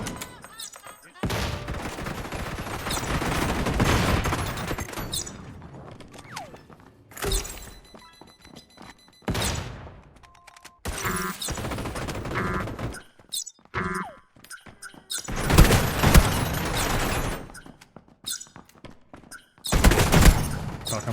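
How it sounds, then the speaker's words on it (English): A shotgun blasts in a tactical shooter video game amid loud bursts of gunfire and shattering impacts that come in several separated clusters, with a voice talking at times. "Shotgun blast."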